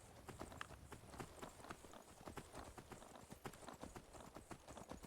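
Horse hooves galloping in a fantasy role-playing video game: fast, steady clip-clop beats throughout, close and fairly loud, with no talking.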